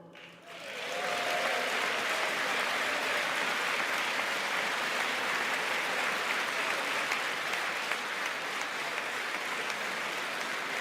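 A large audience at the 2020 State of the Union breaks into sustained applause that swells within a second and holds as a dense, steady roar of clapping to the end.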